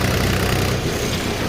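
A tractor engine pulling a loaded trolley rumbles steadily and loudly at close range, a continuous low, throbbing drone with no talk over it.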